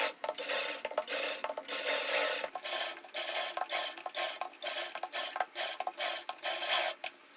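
A sewing machine stitches sleeve fabric for an umbrella kurti at a half-inch seam, a soft, fairly quiet continuous whir with rapid ticking and clicking from the mechanism.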